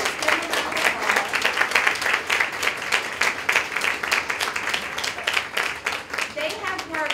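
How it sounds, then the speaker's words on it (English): Audience applause for students at a STEAM team challenge event, a dense, steady round of clapping from a full crowd lasting several seconds without fading. "let's just give them a round of applause."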